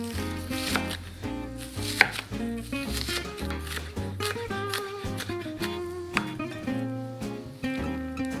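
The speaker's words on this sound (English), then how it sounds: "I want to finely chop it." A knife finely chopping vegetables for Quebec pea soup, with steady, light, regular taps on a board under soft background music.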